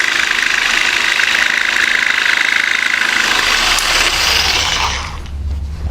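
A jigsaw makes a relief cut in crown molding, its loud buzzing reciprocating whine running steadily for about five seconds before abruptly cutting off, leaving a low hum.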